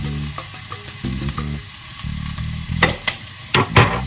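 Onions and peppers sizzle steadily in a pan as parsley, basil, cumin and a little cayenne are stirred in, with close, continuous frying punctuated by sharper scraping stir strokes and no voices.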